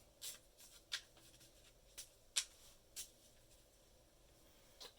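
Soft riffling and light shuffling of a Vs System trading card deck, a few crisp brushing bursts spaced irregularly against a quiet background.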